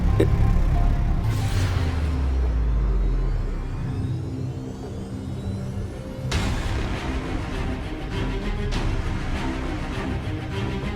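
A car pulls away with a loud low rumble and rising whir that fades out after a few seconds, followed by a quieter steady drone of the vehicle in motion.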